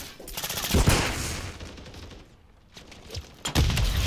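Gunfire in Call of Duty: Modern Warfare III on the Rio map, a loud burst of rapid automatic shots up front, a lull, then another heavy burst near the end.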